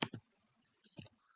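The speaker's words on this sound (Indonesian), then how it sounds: "Kita klik reboot new." Quiet mouse clicks close by during a Linux server install in a virtual machine: a quick pair of clicks, a short pause, then another soft double click.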